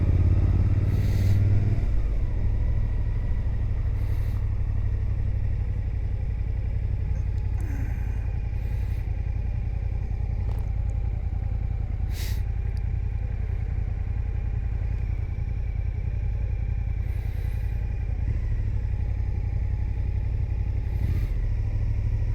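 A motorcycle cruises along a road with a steady, loud engine drone and wind rumble throughout, with only slight changes in pitch and no talking.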